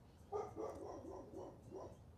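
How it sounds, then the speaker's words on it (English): A dog barks in a short run of about five rhythmic, faint, somewhat muffled barks that sound distant, with no talk over them. "What is that dog saying?"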